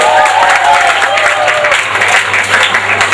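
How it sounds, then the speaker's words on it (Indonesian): Loud audience applause at a university anniversary celebration, dense clapping that holds steady throughout with no speech. "tepuk tangan sekali lagi"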